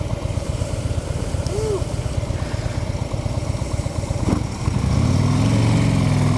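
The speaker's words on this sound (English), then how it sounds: "This bike doesn't like to pull out in second gear, although it will." A motorcycle engine runs steadily, then rises into a louder, deeper drone as the bike pulls away in second gear, close by with no talk.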